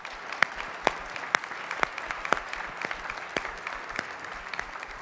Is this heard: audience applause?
yes